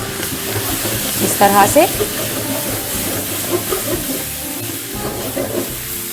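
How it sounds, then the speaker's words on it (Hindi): Chicken masala with garam masala and black pepper stirred and sizzling in a pan, a steady frying hiss with spoon scrapes, and someone briefly speaking over it. "अब मैं इसको अच्छी तरह स्टर करके पकाऊंगी"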